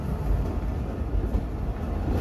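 The Kohat Express train rumbles loudly and steadily near a small junction station, a dense low roar of wheels and carriages without distinct clacks or voices.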